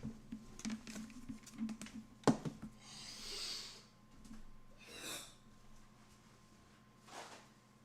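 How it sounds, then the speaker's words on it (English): A person blowing their nose during a tabletop role-playing session: a sharp honking blast followed by a few softer breathy snorts and sniffs, close and fairly quiet in a mostly still room. "I have to blow my nose."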